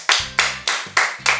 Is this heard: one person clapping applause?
yes